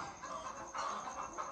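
Chickens clucking softly on a small egg farm with sixteen hens in Ghana, a faint, steady murmur of low calls heard up close without voices.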